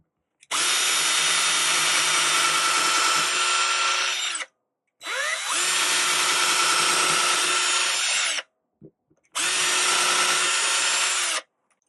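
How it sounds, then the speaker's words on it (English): Black+Decker 20V cordless drill boring a hole into wood, three long steady bursts of loud whining drilling separated by short pauses, close up with no talking. "Let's try drilling a hole."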